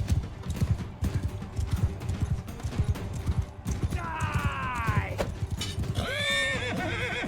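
Horses gallop during a joust in Mount & Blade II Bannerlord, a rapid, loud clip-clop of hooves running the whole time, with two whinnies near the end and a voice talking over it.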